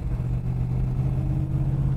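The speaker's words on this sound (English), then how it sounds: "Everybody knows I like to make noise with the exhaust." A 1968 Dodge Coronet 500 drives along with a steady, deep engine and exhaust drone at cruising pace, heard from inside the car as a continuous low rumble with no talk.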